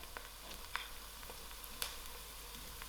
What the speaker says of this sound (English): and my bay leaf. Leave this to fry